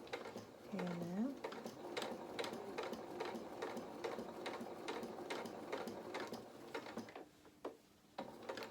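A sewing machine stitches fabric for a highland cow doll's head. It runs in short, steady, close ticking bursts of single stitches, with brief stops where the fabric changes direction, and a low hum underneath.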